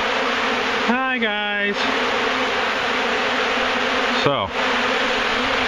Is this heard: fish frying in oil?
no